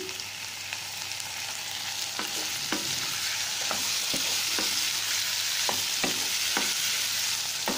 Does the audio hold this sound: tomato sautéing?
yes